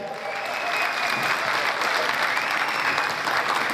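An audience at a yarn dyeing company party breaks into sustained applause, a dense, even wash of clapping from a sizable crowd that stays loud for the whole stretch.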